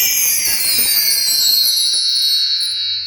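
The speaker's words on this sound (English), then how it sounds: "These descending or ascending tuned wind chimes. In the orchestra world, we call this the mark tree." A mark tree of tuned wind chimes rings in a bright, shimmering cascade of high metallic tones that sustain and slowly fade, played alone and up close.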